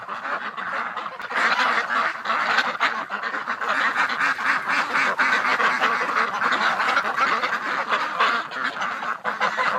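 A flock of ducks and geese on a freezing winter morning, at around -3 degrees, quacking and honking loudly and continuously in a dense, overlapping chorus close by, with no voices.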